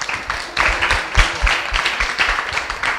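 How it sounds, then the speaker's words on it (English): A youth chat audience in St. Ann gives a round of applause: scattered, moderately loud clapping with uneven hand claps, continuing for about three seconds. "you really need to give yourself a big round of applause"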